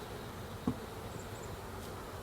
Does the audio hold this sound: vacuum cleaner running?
no